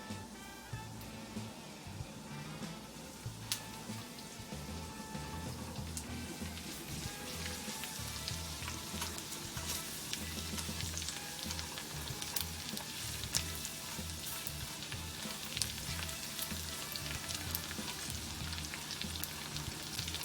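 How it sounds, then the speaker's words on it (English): Steady crackling sizzle of garlic frying in a hot pan for pancit, continuous and close, with no talking. "Right now the garlic's frying up."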